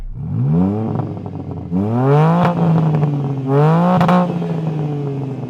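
A BMW M3 engine revs up hard three times in a row, each pull rising in pitch to a peak near 7,000 rpm before dropping back, loud and close.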